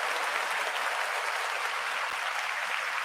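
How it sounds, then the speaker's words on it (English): Dense applause rolls on evenly, a continuous wash of many hands clapping, moderately loud and unbroken for the whole stretch, with no speech over it. "Round of applause,"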